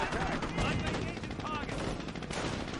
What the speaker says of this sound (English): He's picking off guys with the MG.